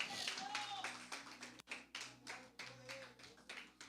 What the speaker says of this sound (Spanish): Denle un aplauso y póngase de pie.